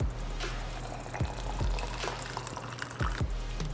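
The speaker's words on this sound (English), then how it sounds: "Pour it in hot water again." Hot water poured over a bag of ground guava leaf tea, a soft steady liquid trickle with a few faint drips and clinks, close and quiet.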